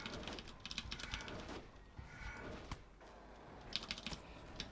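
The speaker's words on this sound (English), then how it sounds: "I just type down throw Thundurus to go do the traps." Computer keyboard typing in short bursts of rapid key clicks with pauses between, close and fairly faint, no voices over it.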